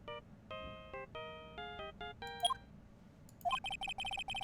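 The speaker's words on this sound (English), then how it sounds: "It's the Steel Samurai theme song, isn't it?" A mobile phone in the Phoenix Wright: Ace Attorney game plays the Steel Samurai theme as its ringtone, with a clear, tinny electronic melody of quick notes followed by a rapid repeating trill, heard alone and fairly quiet.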